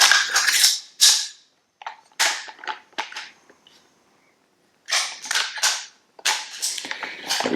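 Rifle shots from a rifle fitted with a CMMG .22LR conversion kit at a 25-yard range, sharp cracks coming in several close bursts separated by short pauses.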